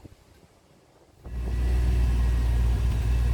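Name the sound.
truck engine running with new muffler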